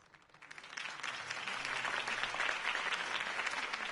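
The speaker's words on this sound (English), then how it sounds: "could have heard that applause" Applause from a crowd builds quickly and holds steady as dense, continuous clapping, heard at a moderate distance, after a political campaign speech in the video game Watch Dogs 2.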